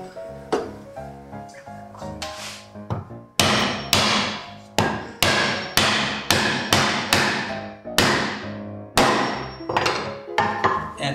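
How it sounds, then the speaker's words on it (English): Hammer tapping a glued wooden dovetail joint together in a woodworking shop, a steady run of sharp, close knocks, some single and some in quick pairs, loud and unaccompanied by talk. "just get a bigger hammer"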